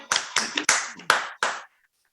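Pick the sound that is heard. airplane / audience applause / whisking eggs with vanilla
audience applause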